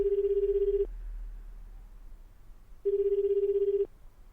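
Telephone ringtone from the video game 428 Shibuya Scramble during an unanswered call: two steady electronic ring bursts about a second each, separated by a two-second pause, clear and close with no talking.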